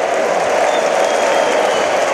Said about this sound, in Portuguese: você ouve a torcida do Sport cantando na Arena de Pernambuco